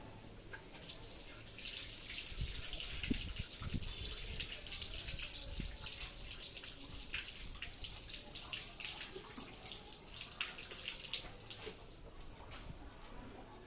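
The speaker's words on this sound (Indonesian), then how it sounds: "Kemudian, bilas pada air yang mengalir." Running tap water splashing over hands being rinsed at a sink, a continuous broad rushing flow with small surging variations, close and steady throughout without talk.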